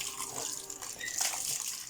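Twin boys splashing water while being bathed, a steady wash of running and sloshing water filling the clip with small splashy bursts, close and fairly loud.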